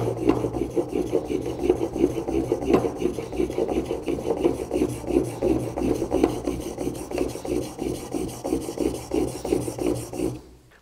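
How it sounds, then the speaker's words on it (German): A chisel edge scrapes back and forth on a cheap water stone in steady, close, rasping strokes that continue without pause for about ten seconds, then stop. "Man sieht jetzt hier wirklich schon schön, dass wir hier vorne die Schneide quasi schleifen."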